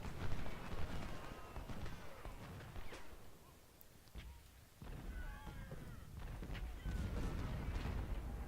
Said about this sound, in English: Nope, got hit by the artillery.